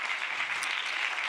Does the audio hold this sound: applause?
yes